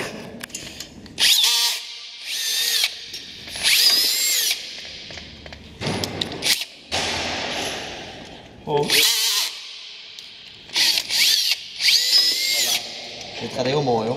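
Cordless power drill driving fasteners while a kart trailer is assembled, in repeated loud whirring bursts of a few seconds each that rise and stop, with pauses between them and people talking nearby.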